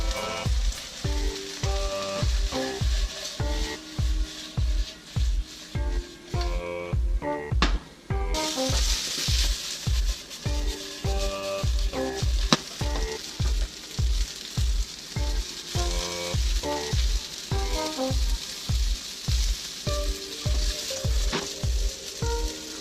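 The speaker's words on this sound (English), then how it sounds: "We've been grilling these peaches for about 5 minutes in the skillet." Peach halves grilling in a hot skillet give a steady close sizzle and crackle, with rhythmic thumping and clattering of the pan and a few sharp ticks running through it, with no voices.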